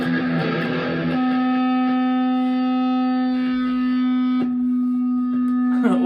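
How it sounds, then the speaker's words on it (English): A Harley Benton ST-Acoustic guitar played through a distortion pedal rings out as a loud sustained distorted note with buzzing overtones, with a few picked changes and a brief restrike near the end. "Distortion pedal."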